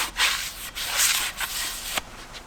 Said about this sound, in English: We can go ahead and just give it a quick wipe and get rid of any excess brake clean.